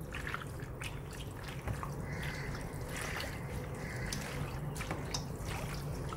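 Sauce is stirred into a black fungus salad seasoned with vinegar, chili, sesame oil and whisky, giving steady wet mixing and squishing sounds close by, continuous throughout.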